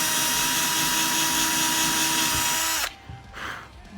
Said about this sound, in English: I'm just drilling a hole.